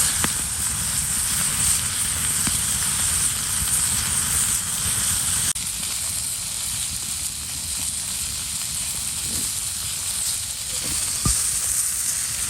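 Potatoes frying in a pan give a steady, loud sizzle, an even crackling hiss that runs without a break, with a few faint clicks and knocks underneath.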